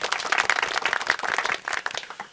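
A recorded clapping track played at a Toastmasters speakers' meeting, a burst of brisk, scattered applause from many hands, fairly close and loud, running throughout and thinning slightly at the end.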